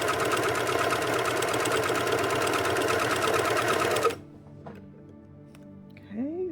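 A serger runs a steady, loud whirring seam on a sweatshirt, with the presser foot and needles down, for about four seconds and then stops, leaving quiet room tone and a faint rising voice-like tone at the end.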